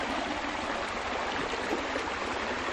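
A river where gold panners search for gold, giving a constant close rushing wash of flowing water that stays even and unbroken for the whole stretch.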